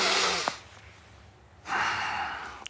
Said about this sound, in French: c'est de prendre des grands respires